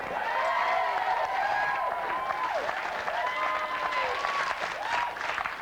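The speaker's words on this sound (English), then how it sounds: "Round of applause." Applause from a studio audience on a comedy lunchtime talk show, steady clapping lasting throughout with some voices and tonal sounds over it.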